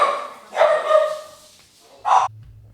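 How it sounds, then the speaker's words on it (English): A dog barks and yelps a few times close by, ending with one short sharp bark, with no talking. "It made all of our dogs crazy"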